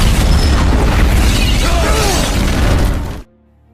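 Loud explosion in an action film scene from The A-Team as a general is killed, a dense roaring blast with rumbling debris that cuts off abruptly into near silence at the end.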